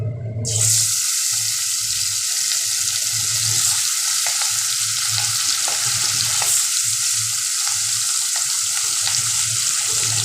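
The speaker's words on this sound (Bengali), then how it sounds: "এবার আমি মাছগুলোকে ভাজা করে নিচ্ছি" Rohu fish pieces, coated in salt, turmeric and lemon juice, drop into hot oil in a wok and set off a sudden loud spitting sizzle that holds steady and close, with faint clicks and no voices.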